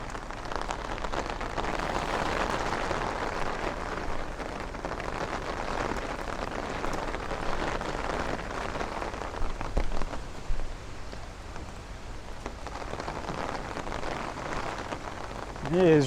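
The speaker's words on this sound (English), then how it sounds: "It is raining really good right now." Rain pours steadily onto a Bay Ridge street on Third Avenue in Brooklyn, a dense, even hiss of drops on pavement close around the listener, swelling slightly in places over the whole stretch.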